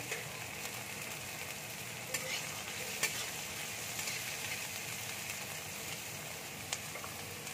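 Tomato and capsicum sizzling steadily in hot oil in a frying pan while bahari begun (spiced eggplant) cooks, with a continuous broadband hiss and occasional soft clicks of a stirring spoon, close and alone.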